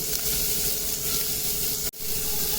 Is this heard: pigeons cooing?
no